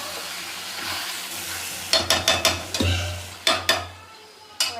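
Mutton liver cooks in a pan with a steady soft sizzle, then a spoon stirs and scrapes it in several sharp metallic clacks, close and clear with no talking.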